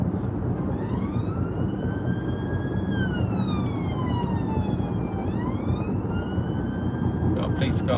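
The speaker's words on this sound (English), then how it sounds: "Got a police car next to me." A police car siren wails nearby on a UK road, rising and falling slowly over a constant loud rumble of road and engine noise from inside a driving car.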